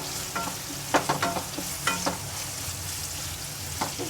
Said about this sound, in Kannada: ಈರುಳ್ಳಿ ಗೋಲ್ಡನ್ ಬ್ರೌನ್ ಆಗೋ ತನಕ ಚೆನ್ನಾಗಿ ಫ್ರೈ ಮಾಡ್ಕೊಳ್ಳೋಣ.